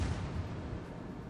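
Secondary guns of the Admiral Graf Spee firing in World of Warships, a deep booming blast at the start that trails into a heavy rumbling decay, loud and without talk.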